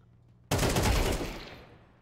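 Gunfire from an arcade shooting video game cuts in suddenly as one loud, dense burst after a quiet lead-in, then slowly fades away over a second and a half.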